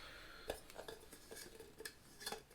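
Small metal cooking pots are handled at close range, among them a hard-anodised aluminium soup pot and pasta pot of about one litre. A few light clinks and knocks sound scattered and faint, with no talk over them.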